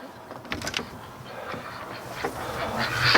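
Ducks give scattered honking quacks up close, several short calls with soft rustling and faint background noise between them.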